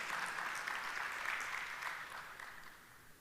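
An audience claps together for sponsors at an event, giving a dense, steady round of applause that holds for about three seconds and slowly tapers toward the end.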